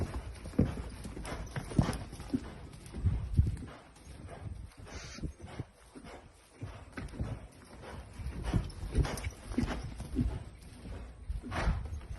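Hooves of a horse clip-clopping at a steady walking rhythm while being ridden, fairly close, regular footfalls continuing throughout with no talking.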